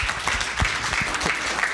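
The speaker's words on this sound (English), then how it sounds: "Please keep joining me in thanking the panel with a round of applause." Audience applause for a conference panel, a short stretch of steady clapping from a room of people.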